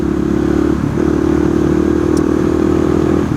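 A 2020 KTM 690 SMC R single-cylinder motorcycle engine runs close by with a steady, throbbing idle and a brief dip and blip in revs, alone without speech.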